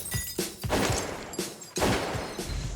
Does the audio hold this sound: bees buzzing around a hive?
no